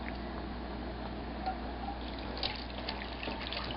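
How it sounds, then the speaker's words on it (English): Steeped summer drink being strained into a strainer set over an ice bath makes a soft, continuous trickle of pouring liquid, steady and close with faint splashes, no voices. "we take it from here and we strain it into the strainer in the ice bath if you need to"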